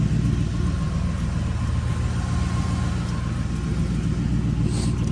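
Close, steady engine rumble from a car with a straight pipe exhaust and an ignition misfire, a deep, rough idle droning continuously without pause.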